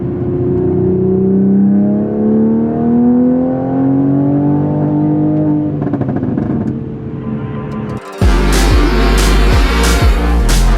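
Toyota Supra with about 500 hp accelerating hard in auto mode, its engine note climbing steadily before an upshift breaks in, then a louder, rougher burst of revving close by; no talking.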